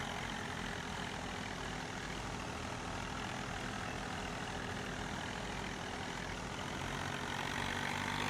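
Tractor engine idling in the Farming Simulator 19 video game, a constant dense droning rumble that stays even and loud with no breaks.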